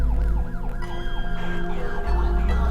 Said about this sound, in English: Sirens, whole 9 yards.